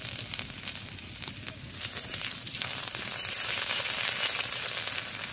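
Grated ginger dropped into hot oil in a pan of fried vegetables for a vegetarian chachchari, giving a steady close sizzle and crackle that swells and holds throughout.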